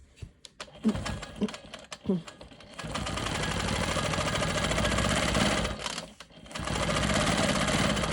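Sewing machine quilting straight lines on quilt sashing, first a few short stitching bursts and knocks, then a long steady whirring run that briefly stops and resumes, loud and close.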